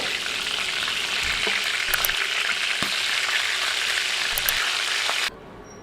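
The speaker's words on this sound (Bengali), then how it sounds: "এগুলো উঠিয়ে এরপর অন্য চিকেন পিসগুলো ভেজে নিব" Chicken pieces sizzle and crackle steadily in hot oil, with occasional stirring clicks; the frying stays loud and continuous, then cuts off abruptly near the end.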